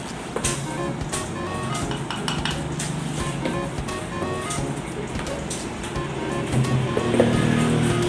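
A spoon scoops cheesecake into a cup for a strawberry cheesecake boba milk tea, making close, intermittent clinks and scrapes against the cup over a soft background hum.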